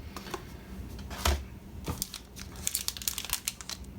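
Taped heat sinks are peeled off a Raspberry Pi 4 power adapter, making soft crinkling and tearing of tape with a quick cluster of small rustles and clicks, close and fairly quiet.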